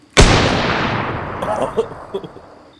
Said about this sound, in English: Definitely shooting at us.